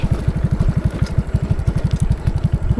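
Motorcycle idling in a rural village, a close, loud, low thumping putter with quick regular beats that holds steady throughout, no voices over it.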